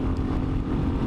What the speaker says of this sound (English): the engine obviously works harder for what you're asking it to do